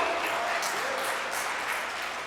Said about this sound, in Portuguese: Se for para Deus tem que ser melhor essas palmas de vergonha.